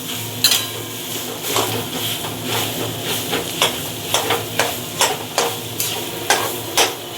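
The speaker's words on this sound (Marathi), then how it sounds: "स्लो गॅस करून ढवळत बसायचं." A vegetable batter is stirred in a pan over a low gas flame, with a spoon scraping and knocking against the pan in a regular rhythm over a faint sizzle and no talk.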